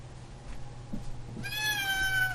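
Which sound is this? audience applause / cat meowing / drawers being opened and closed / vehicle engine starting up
cat meowing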